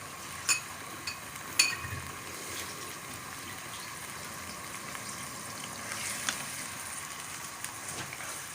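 Beef qorma frying in a pot with yakhni broth, a faint steady sizzle with a couple of small sharp pops near the start.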